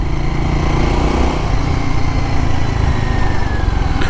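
A Royal Enfield Guerrilla 450 motorcycle rides at low RPM with a half-slipped clutch, its engine thrumming loud and steady throughout with constant wind rush, up close and without speech.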